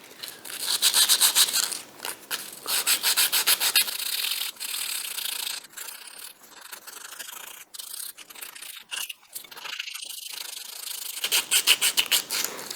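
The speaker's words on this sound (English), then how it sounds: "I'm going to try sanding the back, and I'll need a small piece of sandpaper for that and have to do it by hand." Sandpaper rubbed by hand over the back of a small metal watch case, with WD-40 on it. The rhythmic rasping strokes come in quick bursts with short pauses, close and scratchy, and no one talks.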